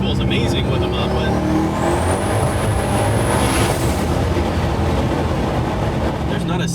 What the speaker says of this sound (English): The turbo spool, the blow off, the V8